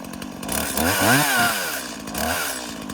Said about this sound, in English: Always be extremely careful using a chainsaw.